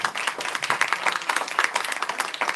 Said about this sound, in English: Let's give these women a round of applause